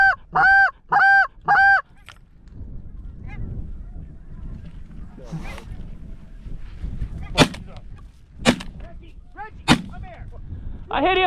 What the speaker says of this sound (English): Honker coming on the left here